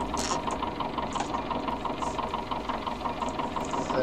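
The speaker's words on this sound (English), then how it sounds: "And get the loader tractor out." A loader tractor engine idles on a farm, a steady rumbling chug with a regular knocking pulse, close and continuous throughout.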